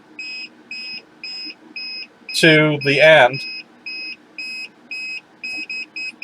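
A metal detector's electronic beeps repeat in short regular pulses near a gold ring, briefly interrupted by someone speaking, then resuming at a slightly quicker, uneven pace as the ring comes closer.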